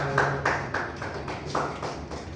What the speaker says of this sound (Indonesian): silakan kasih tepuk